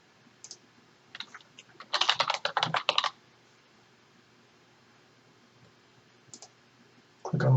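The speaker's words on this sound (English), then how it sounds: "You can just type that in here." Typing on a computer keyboard: a few scattered clicks, then a quick dense burst of keystrokes, then quiet with a couple of isolated taps, and a louder thump at the end.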